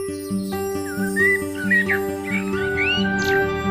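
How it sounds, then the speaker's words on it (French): A common blackbird sings fluting, varied phrases over a steady rhythmic hum in the background in Paris, the song moderately loud and close. "c'est un merle noir."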